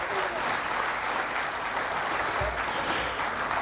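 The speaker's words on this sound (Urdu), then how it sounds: "آپ سب بھرپور تالیاں بجا کے اس کا اظہار کریں گے" Audience applause fills a hall at the opening ceremony of an Urdu literary conference, steady and loud throughout with no break.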